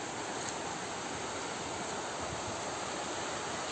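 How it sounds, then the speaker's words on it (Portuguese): Waterfall below a native stingless bee apiary, a steady broadband rush of falling water heard alone, constant and moderately loud throughout. "nossa cachoeira lá embaixo lá"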